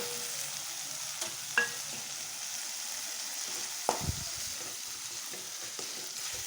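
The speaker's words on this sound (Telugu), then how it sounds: "అన్ని మసాలా వేసి కలుపుకోవాలి" Softened tomatoes and spice masala sizzle gently in a pan for egg keema, a quiet steady fry broken by a few sharp utensil scrapes and taps as the mixture is stirred.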